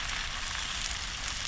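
Freshly caught fish sears in a pot, giving a dense, steady sizzle of frying with no pauses.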